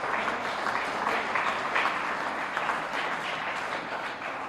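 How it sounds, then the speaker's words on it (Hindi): Sustained audience applause fills a Hindi poetry recital at a large kavi sammelan, a dense steady wash of many hands clapping at once for several seconds, loud and even throughout with no voices over it. "बिना कहे आपने ताली बजाई"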